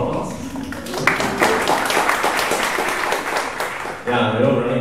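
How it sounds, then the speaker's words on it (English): Applause from a room full of people at a design meetup talk, dense clapping lasting several seconds, then it thins as a voice begins talking near the end. "Round of applause."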